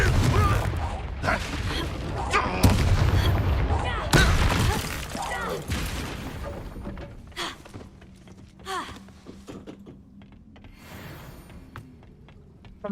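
Confringo fire spells exploding in the Hogwarts Legacy video game: loud bursts and crackling blasts with heavy impacts early on, fading into quieter creaks and mechanical sounds, with a voice talking over parts.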